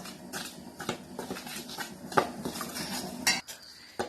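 A spoon clinks and scrapes against a bowl while rice flour and a pinch of salt are stirred together for kolukattai, with quick irregular metallic taps close by and no talking.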